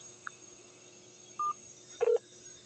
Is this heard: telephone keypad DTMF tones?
yes